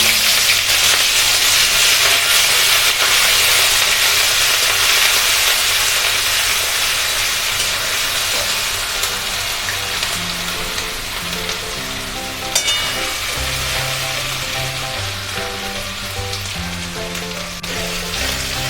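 Onion paste fries in a pan, giving a loud, dense sizzle that settles into a quieter steady hiss, with low background tones later and a single clink.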